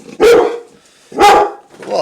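A dog barks indoors, two loud barks about a second apart followed by a shorter yelp, close to the listener with no one talking over them.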